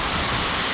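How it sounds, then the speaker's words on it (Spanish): Heavy, unexpected rain pours down, a dense, steady hiss of loud broadband noise with no break, over less than a second. "Y miren la lluvia."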